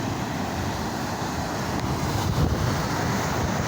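Large waves driven by Typhoon Falcon surge against a seawall on an Occidental Mindoro beach, heard as a constant heavy roar of surf with strong wind noise over the microphone and no talking.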